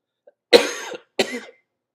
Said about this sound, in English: Yes, my cough is still here.